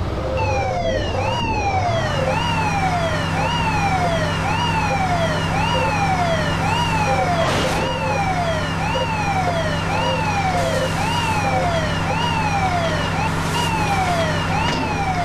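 A fire engine siren wails in the Matchbox Emergency Patrol video game, a loud, rapidly repeating rising sweep over a steady engine drone, continuous throughout with no talking.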